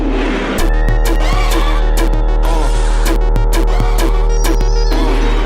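Drum hits are layered over a sustained melodic sample, with sharp regular beats punching through the held tones and clashing with them.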